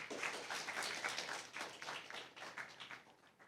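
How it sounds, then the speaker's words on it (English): Audience at a secondary school debate round applauding after a speech, a quiet patter of many hands clapping at a moderate distance, fading slightly toward the end. "give her another round of applause"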